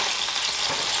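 Teriyaki sauce sizzling in a hot pan, a steady bright hiss of frying that holds even and fairly loud throughout, with no voices.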